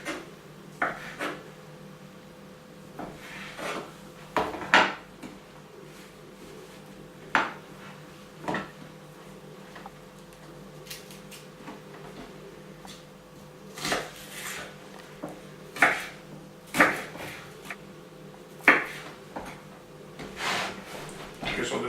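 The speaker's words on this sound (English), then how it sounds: "So you just have to cut the onion and the sausages." Knife chopping onion and sausages on a board for a lasagna sauce, with irregular sharp taps and scrapes spaced through the clip over a steady background hum, no talking.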